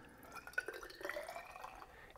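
Cobalt sulfate solution is poured into a test tube, giving a short, soft liquid trickle and splash that runs for about two seconds at low level.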